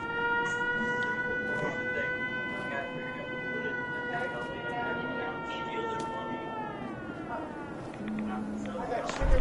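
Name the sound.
camp siren alarm going off in video game Fallout 76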